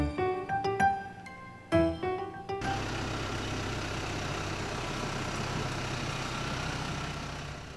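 A small delivery truck carrying goods to homes in the Seongsan area of Jeju runs its engine in a steady, moderately loud low rumble that follows a short burst of music at the start.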